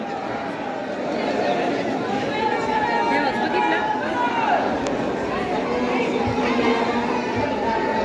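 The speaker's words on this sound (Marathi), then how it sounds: "मी बोलली तुला आज गर्दी आहे" Steady crowd chatter fills the space at the crowded Jyotiba temple, many voices blending into a continuous murmur with occasional nearer calls, loud and unbroken throughout.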